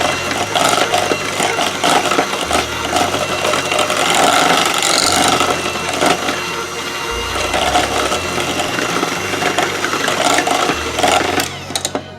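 Red cheesecake brownie batter is being mixed, making a loud, continuous mechanical whirring and rattling close by that runs without pause.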